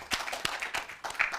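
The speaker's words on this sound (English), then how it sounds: "A round of applause for them once again." Applause for the winning Zenith University College Faculty of Law team at a university law debate contest, short bursts of clapping from a modest audience, fairly faint and uneven over about a second and a half.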